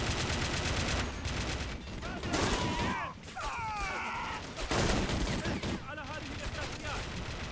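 Rockets, RPGs and gunfire in the WWII strategy game Men of War: Assault Squad 2 during a custom battle, with dense overlapping blasts and bursts that carry on loudly throughout and a voice coming in now and then.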